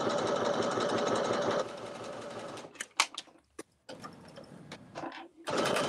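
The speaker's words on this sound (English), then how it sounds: "I am stitching now my straps." A sewing machine stitches the straps of an easy-to-sew cocktail dress, running in a steady dense whir for about a second and a half, then stopping and restarting in short bursts before one final run.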